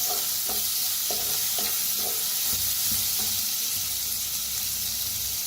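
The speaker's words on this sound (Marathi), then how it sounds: "आता भाजून घेऊया." A steady frying sizzle as ground masala paste with asafoetida roasts in a hot pan for a kadhi vada dish, with a rhythmic run of spatula scrapes and stirring clicks, close and fairly loud, no talking.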